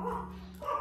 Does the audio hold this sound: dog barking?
yes